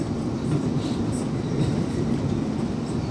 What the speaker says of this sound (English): This train is now approaching Clapham Junction.